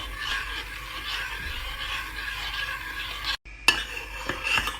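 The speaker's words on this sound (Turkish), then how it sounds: "Kıvamını alana kadar karıştırıyorum." Cherry sauce thickened with starch and sugar is stirred in a pot, a spoon scraping and swishing steadily and close, with a short gap and then a few sharper clinks against the pot.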